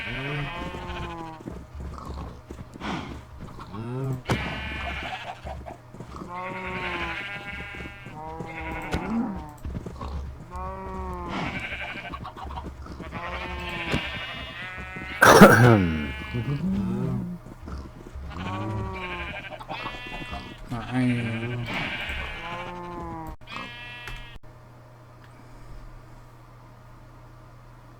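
Sheep bleat repeatedly in Minecraft's SevTech Ages modpack, a run of wavering game bleats, steady and fairly close, sometimes overlapping, with cattle nearby and a brief spoken word.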